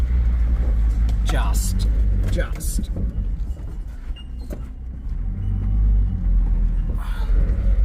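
A 4x4 engine climbs a hill in low-range third gear, a steady heavy rumble close by with occasional bumps and clunks, while someone talks briefly over it.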